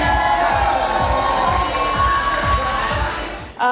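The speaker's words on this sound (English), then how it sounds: "Come on, give a big hand to" Wedding reception crowd cheering, shouting and clapping in a steady beat over music, loud and sustained before cutting off abruptly at the end.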